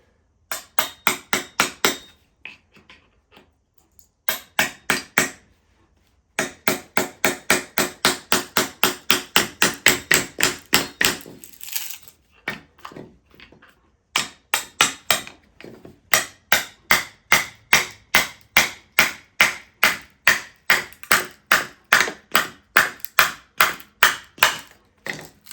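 Rapid, sharp hammer blows strike a chisel into brick during fireplace removal, in long rhythmic runs, loud and close, with brief pauses between bursts.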